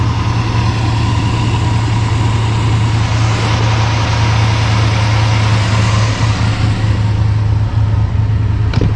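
An old vehicle nearly out of fuel idles close by with a loud, steady, low engine hum and drone that stays constant throughout, with no speech.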